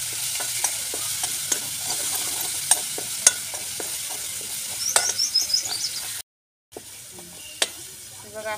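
Masala with turmeric and raw green chillies is stirred as it roasts in a pan for vada pav filling, giving a steady close sizzle with scraping stir strokes and brief clatter, and one short break in the sound.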